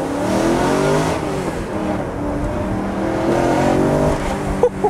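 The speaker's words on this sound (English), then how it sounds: "So listen to that decatted." A loud BMW M3 with a decatted exhaust revs and accelerates steadily nearby through a village, its deep exhaust roaring continuously with a brief pop near the end.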